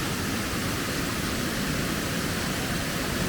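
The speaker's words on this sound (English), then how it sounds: "Look at this waterfall over here." A waterfall on a side trail south of Long Creek Falls along the Appalachian Trail makes a steady, loud broadband rush of falling water that fills the whole stretch without a break.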